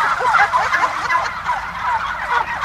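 A flock of turkeys gobbling continuously, overlapping rapid warbling calls close by with no talking.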